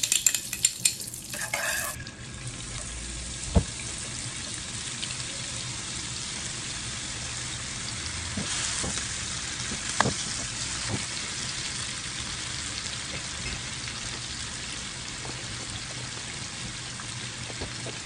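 Basterma frying in ghee (clarified butter) in a pan, a continuous close sizzle with occasional spatula scrapes and a brief clatter at the start, no talking.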